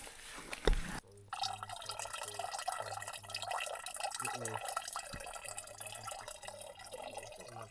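Water trickles and drips steadily while bottles and a 3-liter bladder are filled at a backcountry water source, a faint, close gurgle with a brief clatter near the start.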